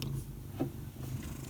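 A pet cat named Kiki purrs steadily and softly at close range, a low continuous rumble with one brief brighter bump partway through.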